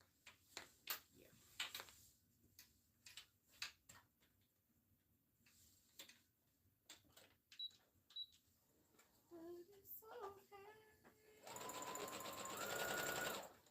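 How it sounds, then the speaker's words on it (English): A sewing machine stitches around the perimeter of a satin hair bonnet, with quiet scattered clicks and short bursts of needle running, then a final longer steady burst of rapid stitching close by. "I'm going to have to stitch all the way around the whole perimeter of this one"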